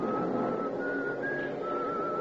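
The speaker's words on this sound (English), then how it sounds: "Over the noise, I hear some contented soul whistling." A person whistles a steady tune aboard a crowded train car, the melody clear and sustained over a constant rumble of carriage noise and crowd bustle.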